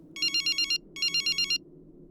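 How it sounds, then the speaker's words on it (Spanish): A young woman's mobile phone rings in a taxi: two bursts of a bright electronic ringtone, each a rapid run of repeated trilling tones, loud and close, separated by a short pause over a low background hum. "De pronto el celular de la muchacha sonó."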